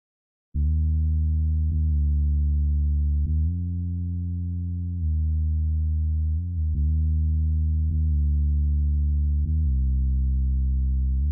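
A deep, sustained synth sub-bass for a hardstyle track drones steadily, shifting between a few low notes with clean tonal harmonics and no other sounds.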